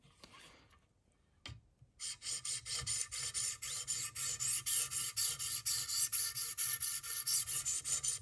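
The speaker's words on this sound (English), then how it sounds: "You can just hear by the sound that it's getting a lot smoother." A Buck 422 knife blade is stroked across a 1000 grit stone on a Wicked Edge sharpener, giving a quick run of close, rhythmic rasping scrapes after a few isolated taps.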